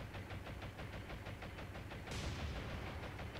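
Machine-gun fire from A6M2 Zero fighters strafing in the War on the Sea game, a rapid steady rattle of shots over a constant engine roar, with a louder surge of noise midway.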